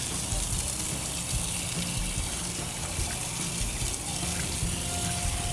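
Water rinsing clay and dirt off a gold prospecting tray in a cement tub, a steady close running wash that holds at the same level throughout, with no talk over it.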